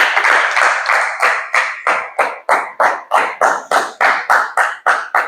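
Congregation at a church service clapping in a slow, even rhythm, each loud clap distinct and repeated steadily, close and prominent with no talk.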